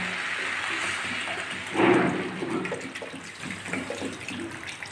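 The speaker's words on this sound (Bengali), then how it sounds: "এখন আমি জলটা দিয়ে দেবো" Water poured into a pan of vegetable curry with drumstick, a steady, close rush of pouring that swells briefly in the middle, then settles into softer bubbling and splashing.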